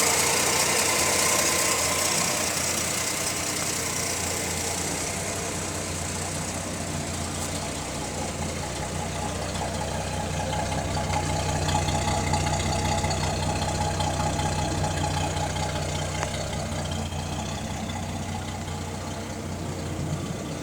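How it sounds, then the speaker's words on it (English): A 1967 Ford Custom car engine idles steadily and evenly, a continuous low hum with faint higher whine, recorded close with no talking. "Again, nice solid idle."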